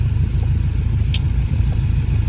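A 1995 hatchback's engine idles in a steady low rumble, parked with the air conditioning set up, a faint click or two over the continuous hum.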